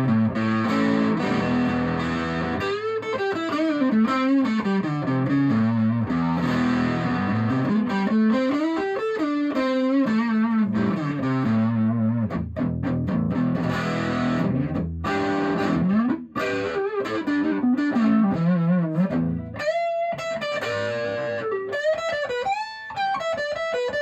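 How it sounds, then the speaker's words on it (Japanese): An electric guitar fitted with a modified humbucker pickup plays through distortion, a thick saturated tone with sustained chords and melodic bends running continuously, loud and close with no talking. "歪みですね"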